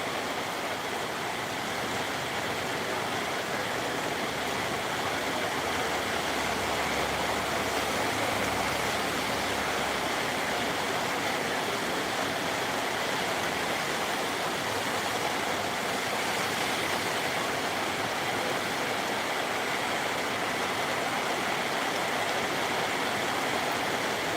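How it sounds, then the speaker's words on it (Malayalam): Heavy, steady rain pours down continuously, a dense even hiss with no pauses and no voices. "എന്നാൽ മഴ അങ്ങനെ വലിയ പ്രശ്നങ്ങളില്ലാതെ പെയ്യുന്നുണ്ട്"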